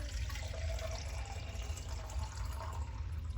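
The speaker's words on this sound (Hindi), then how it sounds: "मैंने ये वाली प्लास्टिक की बोतल ले लिया, इसके अंदर हम पानी ऐड करेंगे" Water pours into a plastic bottle in a continuous, even rushing stream, close and moderately loud, with no voices over it.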